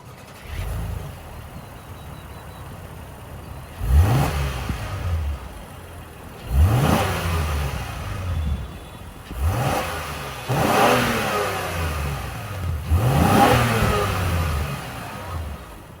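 A 2025 Honda Pilot Elite with a 3.5-liter V6 is revved from idle in five separate bursts, each rising sharply and then falling back to a low steady idle, loud and close with no talking.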